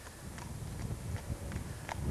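A ridden horse wearing a curb bit, schooled in an arena, walks with a steady, muffled clip-clop of hooves under constant rumbling wind and handling noise.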